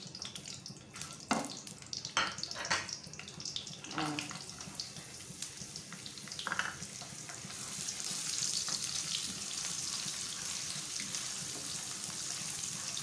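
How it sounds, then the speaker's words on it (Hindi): Dry nuts with cardamom frying in a little ghee in a pan give a soft, steady sizzle with a few sharp clinks of a utensil early on. The frying grows into a louder, even hiss toward the end, and no one speaks. "थोड़ा सा घी में इनको फ्राई करें"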